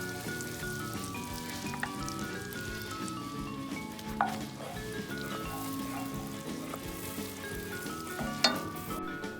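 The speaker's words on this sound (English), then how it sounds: "now we add the 4 tablespoons of butter, copious of amounts, and just want to get it nice and melted in the pot" Butter melting and sizzling in a hot pot, a steady soft crackle with a few louder spits, no talking.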